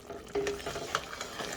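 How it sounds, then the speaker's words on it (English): Pecan candy bubbling in a pot while being stirred, soft popping and sizzling with a faint scrape of the spoon, close and quiet. "But you see the little bubbling."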